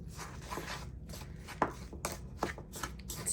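Meatloaf mixture of ground meat and eggs squished and mixed by hand, giving soft wet squelches and irregular slapping clicks that repeat close up with no talking.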